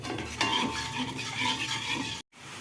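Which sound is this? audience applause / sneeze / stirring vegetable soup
stirring vegetable soup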